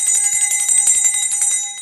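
A bright sound-effect bell rings repeatedly at a quick, steady rhythm, its high sustained tones shimmering loud and close throughout, with no talk over it.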